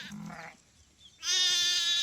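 A sheep in a grazing flock kept by Dhangar shepherds gives a short bleat, then after a pause a longer, louder wavering bleat close by.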